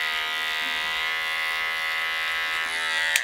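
An electric hair clipper cuts a zero skin fade, shaving the lowest section of the head at the number zero setting. It gives a steady, close, high-pitched motor buzz that holds almost unchanged throughout. No talking.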